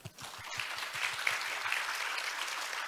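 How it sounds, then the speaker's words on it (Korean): Applause from the audience at a youth forum session in Jeju greets the first presenter, a steady wash of clapping that builds after a couple of low thumps and holds for a few seconds. "박수 부탁드립니다"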